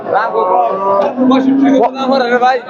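Cattle at a bull market low loudly in long drawn-out moos, close by, with people talking over and between the calls.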